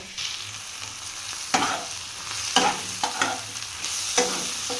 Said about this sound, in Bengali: এখানে কালো জিরা কাঁচা লঙ্কা আর পেঁয়াজ ফোড়ন দিয়ে ভাজছি